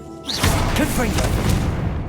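The Confringo blasting spell in the video game Hogwarts Legacy sets off a loud explosive boom with a rushing, crackling blast that fills about two seconds after a short quiet start.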